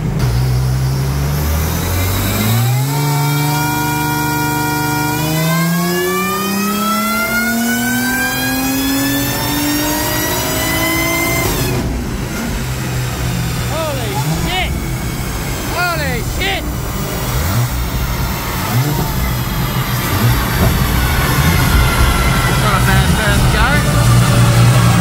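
A supercharged TVS2650 V6 in a CV6 Monaro build revs on dyno rollers, climbing steadily in pitch to a loud peak, then roaring on at high load with fluctuating engine tone throughout.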